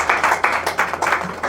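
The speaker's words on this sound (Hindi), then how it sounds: "एक बार पुनः जोरदार तालियां।" A short burst of audience applause at a Hindi poetry recital, with loud, evenly spaced clapping beats filling the whole moment.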